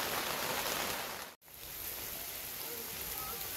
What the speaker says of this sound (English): It may be absolutely tipping it down with rain, but that is not a bad view from our tent, is it?